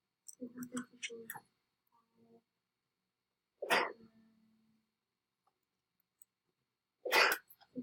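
A person sneezes twice, each a sudden loud burst several seconds apart, between quieter spoken moments in a home math tutoring session.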